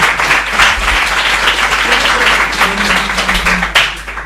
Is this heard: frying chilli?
no